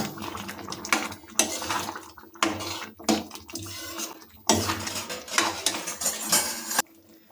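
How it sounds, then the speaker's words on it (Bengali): A ladle scrapes and clanks around a pot of thick curry-style stew, in bursts of metallic stirring and knocking separated by brief pauses. "এটাকে হাতাতে ভালোভাবে নাড়িয়ে দিলাম"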